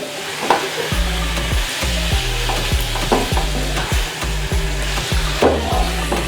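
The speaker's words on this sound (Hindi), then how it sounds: "अपनी चॉप को इस मसाले में फ्राई करेंगे" Mutton chops frying in masala in a pan make a loud continuous sizzle, with rhythmic scraping from repeated stirring strokes close by.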